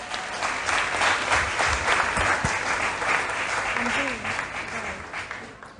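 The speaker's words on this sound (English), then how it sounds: "Now a new round of applause to our contestants for coming this far." Steady applause from an audience at a school quiz championship, sustained throughout with a faint voice briefly under it, easing slightly toward the end.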